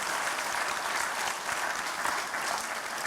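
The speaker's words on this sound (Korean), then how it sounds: "다시 한번 큰 박수 부탁드립니다" Sustained applause from an audience of district office staff after a lecture, steady and dense clapping throughout with no pauses.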